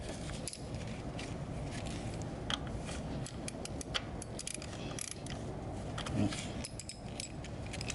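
A ratchet clicks in short, irregular bursts as a spark plug is tightened on a Toyota 4Runner SR5 V6, faint, close-up mechanical ticking over a quiet background.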